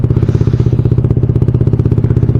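Motorcycle engine warming up at idle, loud and close with a fast, steady, even thumping exhaust pulse and no talking over it.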